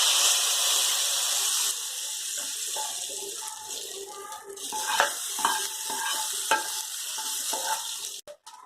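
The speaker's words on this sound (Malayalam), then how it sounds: "ഇത് നമുക്ക് കറിയിലേക്ക് ഒഴിച്ചു കൊടുക്കാം." Liquid pours into lemon rasam curry on the stove, giving a steady hiss and sizzle, then stirring and clinking sounds, close up and fairly loud with no one speaking.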